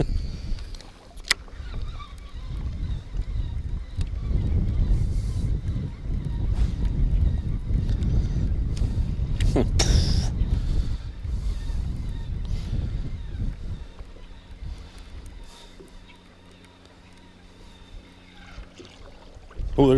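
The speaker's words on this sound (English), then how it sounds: "It's windy out." Steady wind buffets outdoors on Eagle Lake, Canada, during musky fishing, with a broad low roar, gusting louder through the middle and easing toward the end, with water sloshing and occasional knocks.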